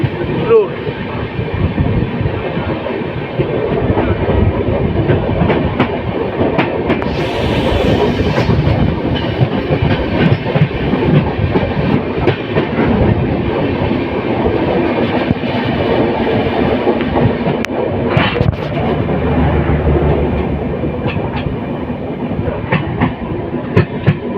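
A train rumbles steadily along the tracks toward Jalpaiguri Road with rhythmic clattering and rattling, loud and close, heard from inside a moving carriage of the Padatik Express.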